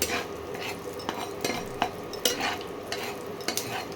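Whole spices tempering in hot oil for a cauliflower and potato dish, a soft crackle and light sizzle punctuated by sharp clinks of a spoon stirring against the pan.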